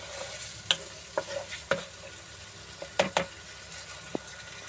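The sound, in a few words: green chillies and spices stir-frying together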